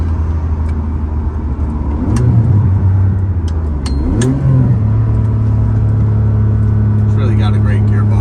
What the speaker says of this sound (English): you get on throttle, in which case it is really, really lovely and pronounces that V12 sound with the best of them.